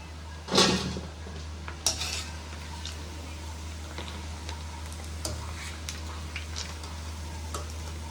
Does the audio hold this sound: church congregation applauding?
no